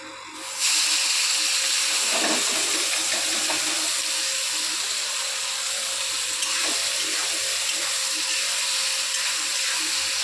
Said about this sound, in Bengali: পেঁয়াজটাকে তেলে দিয়ে দিলাম